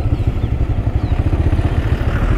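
A motorcycle idles in a traffic jam on a valley road, its low, steady engine throb pulsing evenly throughout at close range with faint background clatter and no talk.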